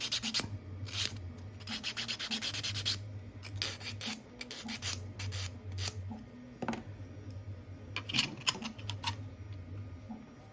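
Rapid rasping strokes scrape a Fallout 4 X-01 prop helmet part, coming in quick close bursts with short pauses and small ticks of handling between them, no talking.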